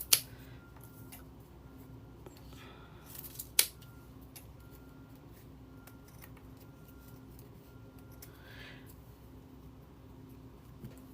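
Scissors cut small pieces of foam tape at a craft table: two crisp, distinct snips a few seconds apart stand out close and clear against a faint, quiet room background.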